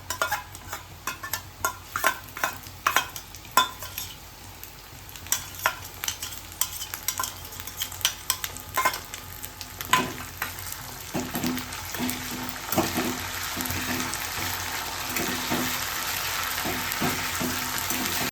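Chicken pieces frying in a pan with ginger and garlic paste as a spoon stirs them, giving irregular scraping and clattering strokes that ease into a steady, brighter sizzle toward the end, close up and without speech.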